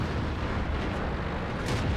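Tank cannon fire in the video game World of Tanks, from an M41 Walker Bulldog fighting a Tier 8 German RE-251 scout, comes as a dense, loud, continuous roar of blasts with no talk.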